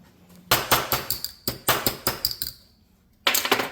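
A hammer strikes a piece of copper pipe to flatten it into an electrical lug, delivering bursts of sharp metallic blows in quick rhythmic runs, close and loud, with brief pauses between the series.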